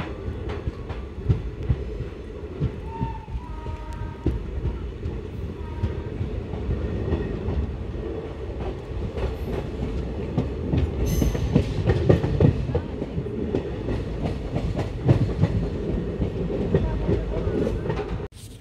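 A passenger train on the Tirunelveli–Sengottai line rolls slowly into Tenkasi station, with a low rumble, rhythmic wheel clatter and metallic squeals, heard close from inside a carriage.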